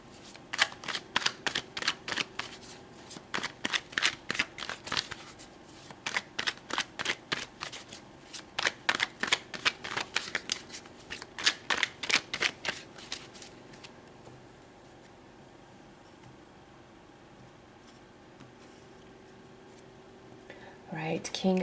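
Tarot cards being shuffled by hand in quick riffling bursts for about thirteen seconds, then a quieter stretch with faint handling and light rustle; close and crisp, with no talk.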